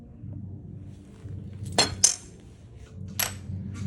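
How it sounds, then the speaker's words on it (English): A scored piece of glass snapped apart with running pliers along the score line: two sharp, close cracks with a bright clink, then another brief ping, over a low room hum. "it exerts pressure on both sides and breaks the piece of glass"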